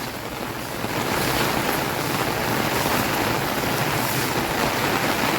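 Water rushes steadily through a flooded village area after heavy rain, where cattle stand tethered near an overflowing canal; a continuous broad wash of flowing water, loud and close, with wind buffeting the microphone and no talking.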